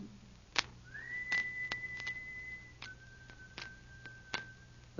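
A long drawn whistle blows as a signal in a Sherlock Holmes radio drama, a sustained steady tone that dips slightly midway, with scattered sharp clicks around it and no speech.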